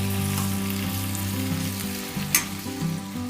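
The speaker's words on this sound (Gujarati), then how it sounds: "તેલમાં બધી જ વસ્તુને ચમચા વડે મિક્સ કરી લેવાની છે" Mixed vegetables for Surati undhiyu fry in oil while a spoon stirs them, giving a steady close sizzle with a brief metallic scrape of the spoon near the end.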